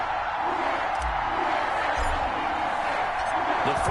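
A home crowd at a football game against the Brooklyn Bulls roars with steady cheering and scattered whoops, a constant broad wash beneath someone talking over it.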